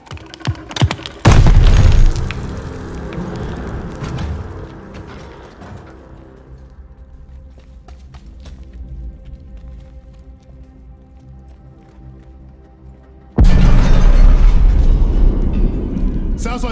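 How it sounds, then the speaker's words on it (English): In the video game Call of Duty: Vanguard, a grenade goes off with a loud, deep boom after shouting. A long rumbling tail fades under soldiers' voices before another heavy blast and gunfire erupt near the end. "Grenade! Get down!"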